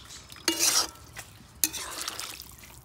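Water poured into a pot of rice and mixed vegetables for veg pulao, two hissing bursts of pouring and sizzling close up, separated by a short pause, with faint clinks after.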